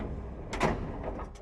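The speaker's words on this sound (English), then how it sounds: "Notice that these baggage doors open sideways for easier access." A sideways-opening baggage compartment door on a 2008 Beaver Marquis motorhome is worked, giving a brief sliding clatter and a couple of lighter knocks over steady background noise.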